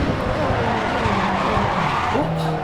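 Tires skidding under late braking on a race car in the game Assetto Corsa, a continuous squeal over engine drone for a few seconds, with a voice talking over it.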